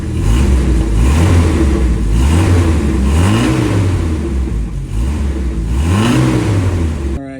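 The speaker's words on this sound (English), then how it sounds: "here's the stock exhaust" Jeep Wrangler engine with its stock exhaust, loud and close, revved repeatedly in rising and falling surges over a steady rumbling idle, with no talking.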